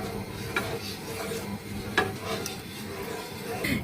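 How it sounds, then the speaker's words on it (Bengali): A spoon or spatula stirs and scrapes a sweet milk mixture in a pan, close and fairly quiet. Irregular clinks and scrapes of metal on the pan come over a soft, steady cooking hiss. "এভাবে নেড়ে চেড়ে নেব না হলে দেখছি যে কেরামিল তৈরি হয়ে যাবে"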